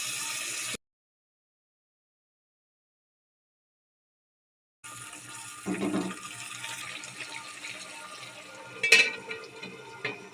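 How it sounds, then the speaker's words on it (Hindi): Water is poured into a pan of bitter gourd and liver cooking, a splashing hiss starting after a brief silence and continuing with sizzling, plus a louder clatter near the end. "थोड़ा सा इसमें पानी शामिल कर लेते हैं।"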